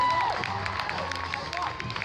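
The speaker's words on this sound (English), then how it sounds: "Give them one round of applause" Crowd at a Butlins Bognor holiday resort show cheering and clapping at the close of a game round, a steady wash of applause with shouts and whoops, a voice briefly heard within.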